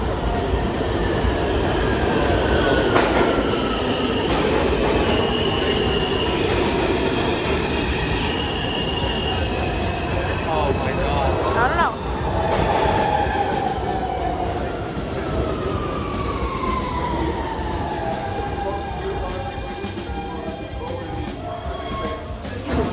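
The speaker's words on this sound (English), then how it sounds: "So you're getting on this train" A New York City subway train rolls along with a loud constant rumble, rattling cars and squealing wheels rising and falling, heard from inside the car for a long stretch.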